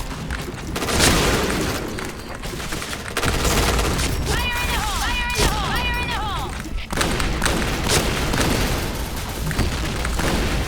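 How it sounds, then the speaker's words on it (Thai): Explosions and gunfire rip through a Point Blank online shooter match: loud booms and rapid bursts of shots in close succession, with a voice talking intermittently over the combat. "ระเบิดเยอะวะ"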